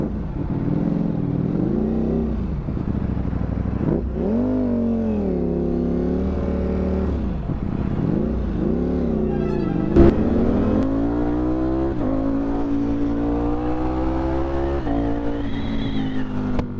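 Ducati Streetfighter V4 motorcycle being ridden on a sunny day: a loud, continuous engine note rising and falling through repeated gear changes and throttle swells, heard close from the bike itself, with a brief knock near the middle.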